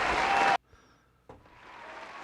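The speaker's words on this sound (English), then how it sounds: "Oh, I just have claps." A short burst of crowd applause as a sound effect during a Christmas livestream, loud and dense for about half a second before cutting off abruptly, followed by quiet room noise and a faint thump.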